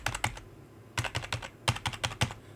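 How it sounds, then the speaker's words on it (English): Computer keyboard keys pressed in quick bursts of clicky taps with short pauses between groups, close and fairly clear, no talking. "Again, hit enter on the keyboard."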